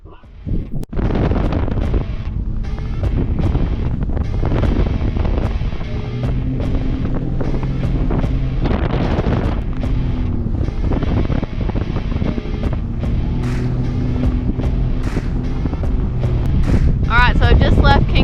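Sea-Doo jet ski riding across choppy, windy sea off Fraser Island (K'gari), with loud buffeting wind on the microphone, a throaty engine roar and hull slaps against the waves, continuous and close for the whole stretch.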